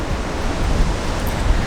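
Ocean surf breaks on the shore at Mossel Bay, South Africa, where surfers ride the waves, heard as a loud, steady wash of broadband noise with some wind buffeting.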